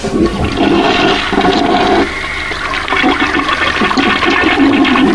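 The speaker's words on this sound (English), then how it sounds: "I've tried flushing the toilets, but it just won't budge." A toilet flushes loudly nearby, a steady rushing gush of water that swirls and drains for several seconds.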